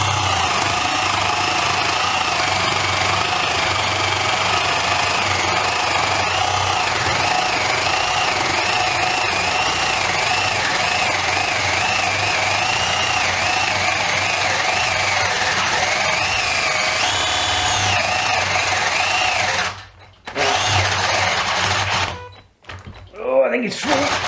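A cordless drill boring a 25mm hole grinds loudly and continuously with a wavering motor whine for about twenty seconds, then slows and stops, followed by brief bursts of drilling and handling noise.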